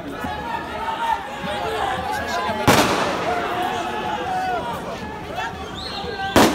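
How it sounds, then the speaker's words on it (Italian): Police fire tear gas canisters during a street protest in Lyon, France, two sharp loud bangs cutting through a steady crowd hubbub, with people chattering and shouting throughout. "Guardate i lacrimogeni che butta la polizia."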